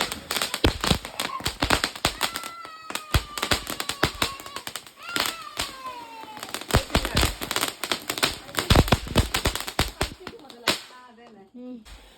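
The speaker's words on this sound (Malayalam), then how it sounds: "ആ പോകുന്നത് പടക്കമാണ്, നമുക്ക് പൊട്ടിക്കാനുള്ള പടക്കം." Firecrackers for the Vishu festival bursting outdoors in a rapid string of sharp, loud cracks and pops, some overlapping in dense clusters, with a few whistling streaks between bursts and a scattered tail of smaller pops at the end.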